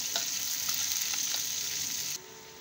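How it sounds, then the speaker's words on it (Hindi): Chopped onions and green chillies fry in a pan for bhindi sabzi, giving a steady, loud sizzle with a few scraping stirs, then the hiss drops away abruptly near the end. "इसे हिला देंगे और दो मिनट तक प्याज को लाल होने तक भूनने देंगे"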